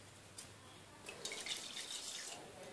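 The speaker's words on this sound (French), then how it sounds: "Donc je verse l'eau" Water being poured into a pressure cooker holding rice and mung dal gives a faint, brief trickling splash lasting a second or two over quiet background noise.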